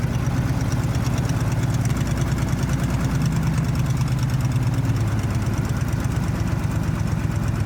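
A light aircraft's piston engine with independent ignition per cylinder idles near 1,000 rpm, throttle closed: a loud, steady, close low chugging drone with rapid even firing pulses running the whole time, no speech.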